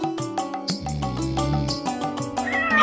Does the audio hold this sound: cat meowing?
yes